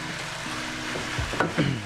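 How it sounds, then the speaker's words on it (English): Chicken pieces sizzling in olive oil in a pan, with a rubber spatula scraping and pushing them around in a few short strokes over a soft, continuous fry, close by. "Grab your chicken, throw it in. Get your handy dandy rubber spatula, and just let it go."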